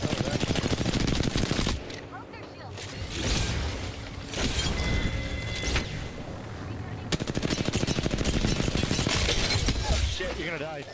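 Heavy video game gunfire, with long stretches of rapid automatic bursts and sharp single shots, loud and close, while a player talks over it.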